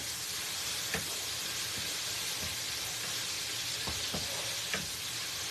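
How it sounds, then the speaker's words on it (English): Ground beef for homestyle nachos sizzles steadily in a pan, a constant close frying hiss with a few scattered scrapes and clicks from stirring, no voices. "Let me just stir this meat back here, which is almost done"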